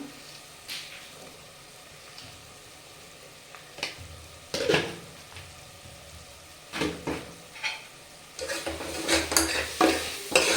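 Masala for brown chana kurma fries in a pan after chili powder goes in, with intermittent spatula scrapes that grow into a busier run of stirring and sizzling toward the end.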